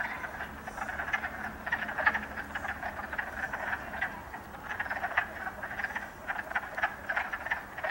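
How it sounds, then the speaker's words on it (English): Frogs croaking in a spring wetland, a dense continuous chorus of rapid raspy calls at moderate distance with no talking. "There's one of the frogs."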